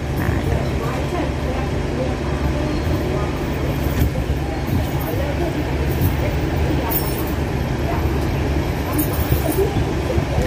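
A train rumbles along near a railway station on a clear morning. A dense, steady, loud roar of rolling wheels fills the whole stretch, with faint voices in the background.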